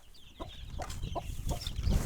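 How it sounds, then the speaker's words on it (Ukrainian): A hen clucks outdoors while out with her nine striped chicks, giving a run of short, evenly spaced clucks at close range over steady background noise. "сьогодні ми випустили нашу курочку з такими полосатиками"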